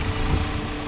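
A turbocharged Cadillac truck engine running under an open hood, a steady, close, dense rumble with a broad hiss on top, brief and unbroken with no voices.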